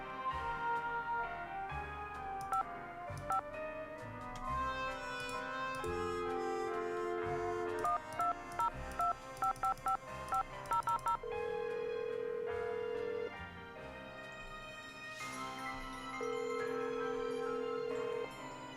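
Telephone keypad tones in a Nancy Drew video game, a series of short beeps and a few longer sustained tones over faint background music.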